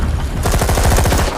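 Bursts of rapid automatic gunfire in a film prison break, a dense stutter of sharp shots that starts suddenly and rattles on loudly for about a second.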